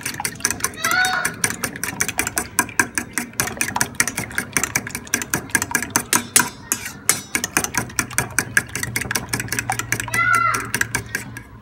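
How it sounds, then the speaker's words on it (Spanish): Eggs and milk are beaten briskly in a bowl for a quick breakfast. Rapid, regular clicking taps sound through the whole stretch, with a voice heard briefly now and then. "Y vamos a batir."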